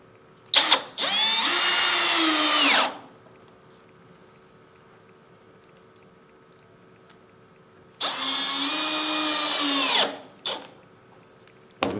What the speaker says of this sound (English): Then I'll drive in my screws.